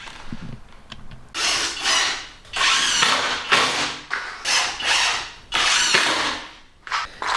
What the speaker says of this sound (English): Inserting 1 screw into each joist, which in conjunction with the glue I consider to be ample.